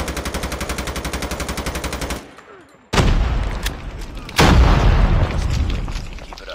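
In a Call of Duty video game, rapid machine-gun fire rattles loudly, then after a short pause a grenade blasts, followed by another heavy explosion and continued rumbling gunfire, all loud and close.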